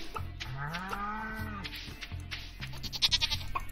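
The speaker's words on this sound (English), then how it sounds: "Oh, the goat went a bit crazy when I patted it." Goat bleating in the farming game Stardew Valley, a long wavering bleat followed by a few shorter calls, close and clear over faint farm ambience.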